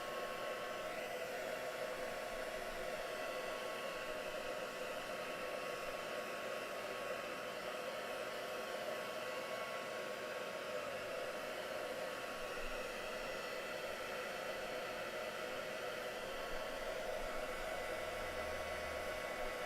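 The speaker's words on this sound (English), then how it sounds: "So I'm just drying this off, and I will use the stencil on this next." A hair dryer blowing continuously on a wet stenciled craft project, a steady loud airy whir held evenly throughout, alone without talk.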